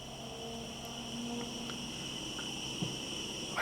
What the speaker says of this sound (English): It's eerily quiet, with only the sound of crickets breaking the silence.